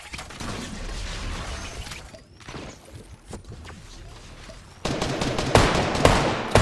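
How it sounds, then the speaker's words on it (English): Gunfire in a Fortnite match: rapid bursts of automatic shots and scattered single cracks, some close and loud, others more distant, with glass-like impacts and a louder flurry toward the end. "You're shooting at me."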